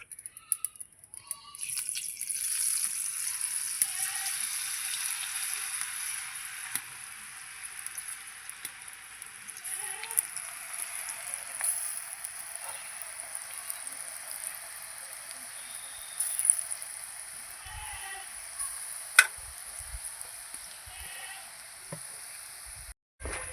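Boondi, drops of gram flour batter, frying in hot oil, a steady, soft hiss and crackle that goes on throughout with a few faint knocks and clinks.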